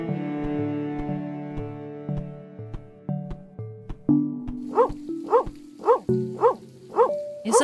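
A cartoon dog in the video game Softie barks in a quick series of short, bright yips, layered over soft game music.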